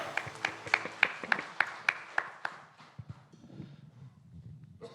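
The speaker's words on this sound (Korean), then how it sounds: "우리의 기쁨의 주인 되시는 예수님께 영광의 박수를 올려드립니다" A church congregation claps during a Sunday praise worship service, with a run of sharp, regular claps up front that thin out into a softer, scattered patter.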